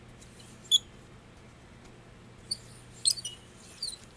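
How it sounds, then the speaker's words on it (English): The drag of a vintage wooden kite reel squeaks against metal in short, high, irregular chirps, a couple early and a cluster later, close and clear against near silence. "You can hear it squeak as it rubs against the metal."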